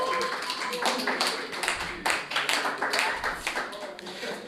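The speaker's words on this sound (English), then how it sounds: "So can we give both teams a round of applause?" Audience clapping for two teams after a competitive match, a scattered and fairly quiet patter of hands with some voices mixed in.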